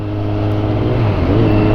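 A brand-new motorcycle's engine runs during a break-in ride, a steady close drone with a slight pitch rise near the end, brief and alone.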